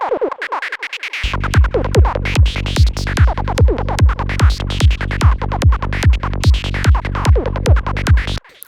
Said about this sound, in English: Pretty straightforward, arpeggiated squelch.